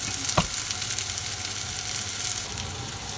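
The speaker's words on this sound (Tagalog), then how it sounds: "Isinama ko po ang peanut butter sa pagisa ng bawang at sibuyas." Garlic and onion sautéed with peanut butter in a pan for Filipino menudo give a steady, close sizzle throughout, with one brief utensil clack near the start.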